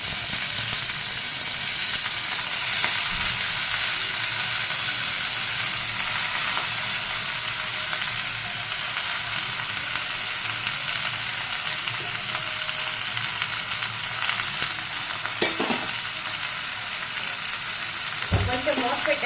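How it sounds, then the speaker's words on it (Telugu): Malabar spinach fries in a little oil with a steady, loud sizzle throughout, broken by a few brief stirring scrapes and a knock near the end, with no one talking. "ఇప్పుడు ఇందులో కొంచెం ఆయిల్ వేసుకుని బచ్చల కూర వేయించుకోవాలి"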